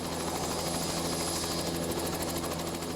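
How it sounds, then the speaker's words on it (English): A helicopter setting down in the crater of Mount St Helens, its loud, steady rotor and turbine roar filling the whole stretch, close and unbroken. "Our helicopter hovered briefly above the 100-foot-high Lewitt Falls before setting down on the north"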